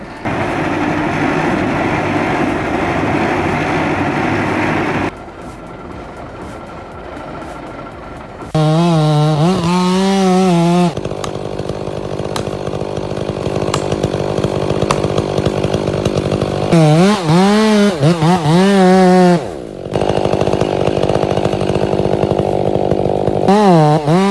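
A chainsaw fells a tree during logging, running loud and close with a rough engine drone that drops to a quieter idle, then surges into high-revving bursts with pitch swings as it cuts.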